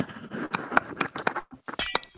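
Glass breaks in the video game Blightfall: a string of sharp clinks and shattering hits, fairly quiet, ending in a brighter crash near the end, with no talking.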